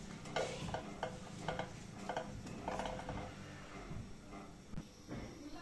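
Gram flour (besan) mixture being stirred in oil in a pan over a medium flame, steady rhythmic scraping strokes with a faint sizzle, fairly quiet and close.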